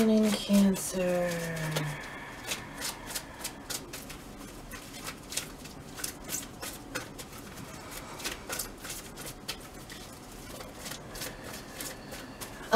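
Tarot cards are shuffled close by in quick, regular riffles, a steady run of crisp flicks after a brief opening tone.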